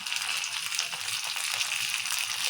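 Tempering seeds, coriander and curry leaves spit and sizzle in hot oil for a dal, a dense, even hiss held close and steady throughout.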